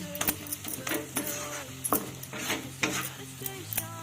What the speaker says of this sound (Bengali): এবার সবটাকে একটু কষিয়ে নিতে হবে